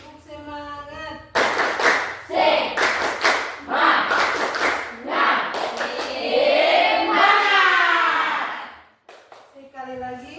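Schoolchildren in an Indonesian classroom perform a rhythmic spirit clap, bursts of patterned claps alternating with group chanting, loud and close, with an adult voice leading before and after.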